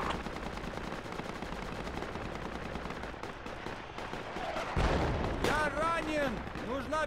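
Mortar and gunfire in Project Reality, a military shooter game: dense continuous battle noise with repeated shots and a heavier blast near the middle, players talking over it.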